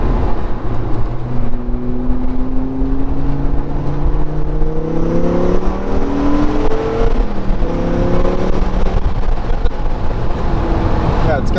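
A 1997 Dodge Viper GTS accelerates from low revs, its deep engine tone climbing steadily through several seconds before a gear change and renewed rise, loud and heard from inside the cabin.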